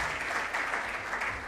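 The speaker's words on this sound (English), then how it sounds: "Please, let's give her a big round of applause as she comes in." An audience at an ATM innovation roadshow event in Accra, Ghana, claps steadily in a dense, sustained round of applause throughout, filling the room without breaks.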